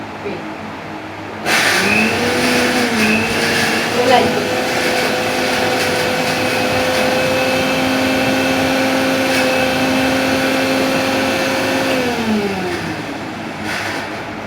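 An electric grinder starts up and runs with a steady high-pitched whir while grinding momo ingredients, its motor pitch shifting slightly before winding down.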